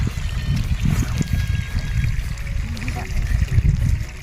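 Rainwater overflows from flooded paddy fields, a steady, close trickling and gurgling flow that runs continuously with a low rumbling wash throughout.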